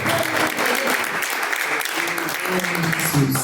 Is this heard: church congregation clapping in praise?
yes